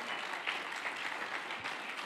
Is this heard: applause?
yes